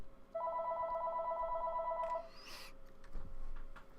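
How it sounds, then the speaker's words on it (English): A telephone rings once with a warbling electronic trill lasting about two seconds. It is followed by faint handling clicks and rustle. "Phone call."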